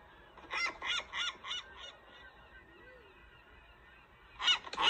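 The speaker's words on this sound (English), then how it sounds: "Seagull." A cartoon seagull squawks in a quick run of five loud honking calls, a short pause, then two more harsh cries close up, played at a good volume.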